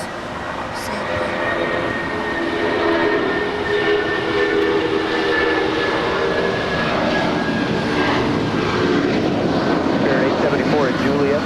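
A Northern Cargo Boeing 777 jet airliner passes overhead at LAX airport with a loud, steady, sustained roar and a faint high whine running through it, holding strong from start to finish.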